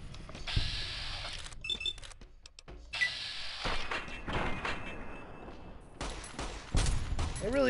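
A gun in Fallout New Vegas fires in scattered shots and short bursts amid mechanical clanks and sliding, door-like sounds, moderately loud with varied game effects between.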